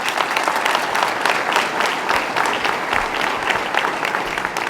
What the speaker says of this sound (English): Please join me in a round of applause for this team.